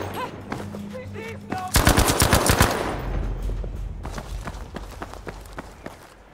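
Gunfire in the video game Battlefield V opens with a sharp, loud burst of rapid automatic shots. Running footsteps and scattered shots follow, with game voices shouting in the background.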